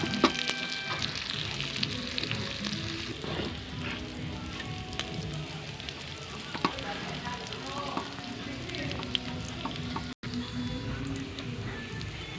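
Garlic fries in a pan with a busy, crackling sizzle and occasional stirring knocks, fairly close and steady throughout, with a brief dropout near the end.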